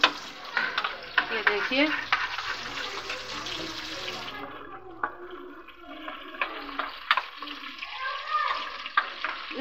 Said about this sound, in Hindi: ये मैंने दही में इसको डाल दिया, मैं इसको अच्छे तरीके से मिक्स कर लूँगी